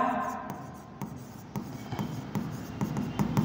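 A teacher writing an accounting entry by hand, probably marker or chalk on a board, makes a run of short scratchy strokes with brief pauses between them. Writing is the only sound.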